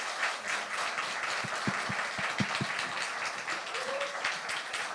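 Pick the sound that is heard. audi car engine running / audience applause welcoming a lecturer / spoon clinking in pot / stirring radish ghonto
audience applause welcoming a lecturer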